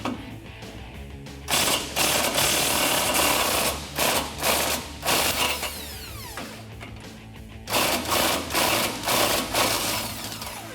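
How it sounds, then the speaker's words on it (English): An 18mm socket works the nut off the sway bar end link on the front suspension of a 2019-2022 RAM 1500, close and loud, with bursts of rapid ratchet clicking and mechanical rattling broken by short pauses. "So we can get an 18mm socket on that and remove it."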